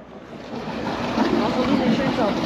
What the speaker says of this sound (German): Die Motoren laufen.